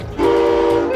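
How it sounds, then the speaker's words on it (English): A train whistle blows one steady, loud and close tone that starts sharply and holds to the end over low rail-yard background rumble. "Pull on the whistle twice."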